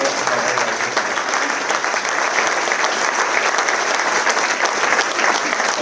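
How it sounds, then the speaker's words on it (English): A concert audience at a charity concert with flute bands gives a round of applause, steady and dense clapping that holds at an even, loud level throughout. "big round of applause for Nigel"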